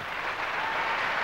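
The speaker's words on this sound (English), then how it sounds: "Give us a clap, boys and girls." A theatre audience at a pantomime bursts into applause, a dense, continuous patter of clapping hands filling the whole brief moment.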